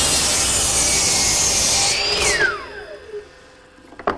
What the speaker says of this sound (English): dado head cutter with about 3/4 inch width, and I've installed this stop block so that it'll cut the shoulder in exactly the right place